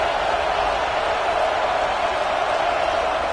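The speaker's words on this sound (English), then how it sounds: "Listen to this crowd just shaking the girders of this place," Dense stadium crowd roaring at a football game during a defensive stand, a steady loud wash of cheering and noise held without break, no distinct voices standing out.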